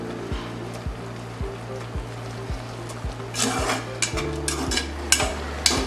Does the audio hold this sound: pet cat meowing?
no